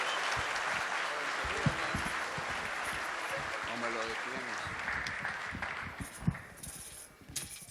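Audience applause during a 2018 state of the city address, dense clapping that slowly thins out and fades, with voices calling and talking over it and a few sharp louder claps near the end.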